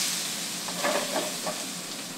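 Onions sizzle and hiss in hot oil in a frying pan, a soft steady crackle with a few brief louder spits.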